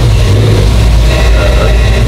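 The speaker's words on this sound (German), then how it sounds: "der läuft im Leerlauf und ich gebe jetzt einfach mal ein bisschen Drosselklappe" A race engine on a chassis dyno roars loudly and continuously as the throttle opens, with a dense low rumble throughout and no pauses.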